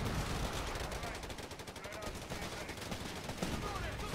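Continuous gunfire from rifles and machine guns in a Company of Heroes 3 2v2 battle, a dense crackling barrage of shots running steadily throughout with faint voice chatter underneath.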